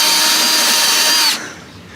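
A step drill bit whines as it deburrs metal, a loud steady high-pitched spin lasting just over a second before cutting off abruptly.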